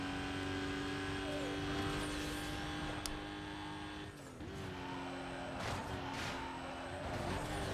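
Aston Martin in Need for Speed: Most Wanted (2005), its engine droning steadily and loud throughout, with a brief dip near the middle and some tire and road noise layered over the sustained tone.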